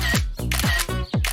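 A camera shutter fires four times in quick succession while someone snaps a selfie at a summer campsite. Each shot is a loud, close electronic click with a short tonal sweep, and no one talks over it.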